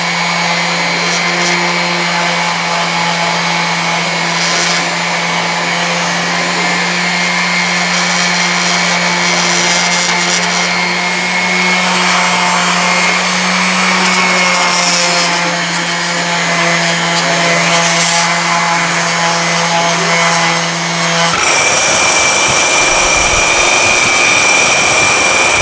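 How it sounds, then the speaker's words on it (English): Power sander smoothing anodized aluminum with 800 grit paper, a steady loud motor whine with a constant low hum running nearly the whole time, then cutting off abruptly near the end into different broadband noise, with no talking. "I'm gonna throw a quick 800 grit sand on this just to kind of smooth it out."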